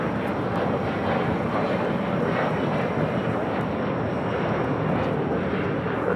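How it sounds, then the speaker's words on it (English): Turkish Airlines Airbus A350-900 heavy jet arriving at Los Angeles LAX from Istanbul onto the north side runway 24 right, a steady loud rushing engine roar, close and unbroken from start to finish. "Turkish Airlines to A350-900 coming in from Istanbul."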